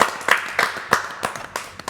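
Scattered, uneven claps from a small studio crowd welcoming a guest called Bébert le frelon on a French talk show, several sharp loud claps spaced about a third of a second apart over a faint background.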